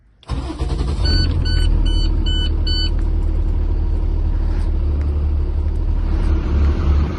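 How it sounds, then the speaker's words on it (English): A school bus diesel engine cranks and starts, then settles into a loud, steady rumbling idle to build air pressure in the brake tanks, heard close with a short series of electronic chimes early on. "So I'm going to now start the bus to build air pressure back up in the tanks."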